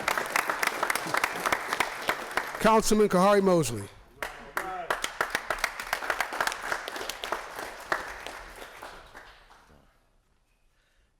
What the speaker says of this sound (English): Clap for that, y'all.